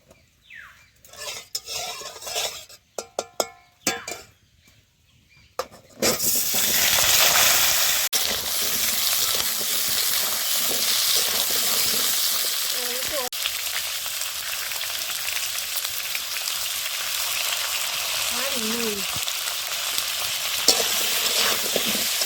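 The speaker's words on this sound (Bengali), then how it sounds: "দিয়ে এবার আলুটা ভেজে নেব।" Potatoes fry in a hot pan of oil with a loud, steady sizzle that runs unbroken, preceded by a few clattering knocks of utensils against cookware.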